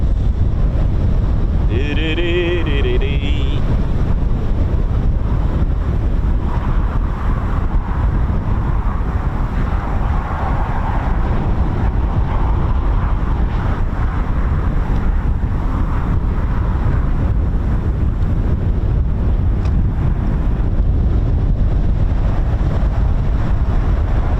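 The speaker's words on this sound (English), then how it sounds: "It is very, very windy today." Strong wind buffets the microphone continuously at an RAF Waddington airfield, a steady loud roar throughout with a faint brief tone early on and no speech.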